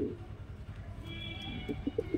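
Chokher Madrasi pigeons coo in a few soft, low, rounded bursts near the end, over a steady low background murmur.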